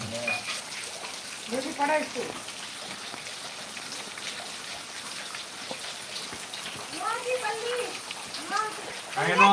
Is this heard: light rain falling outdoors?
yes